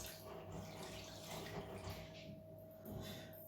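Milk steadily pours into a pan while cinnamon buns are being prepared at home, a soft, continuous liquid trickle heard close up, with a faint background hum and no talking.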